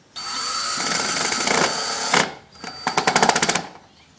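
A power drill drives a screw into a wooden 4-H birdhouse. It whines steadily for about two seconds, then after a short pause fires a quick run of rapid bursts, loud and close, with nobody talking.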